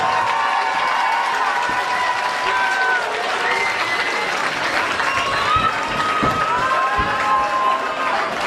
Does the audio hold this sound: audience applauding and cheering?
yes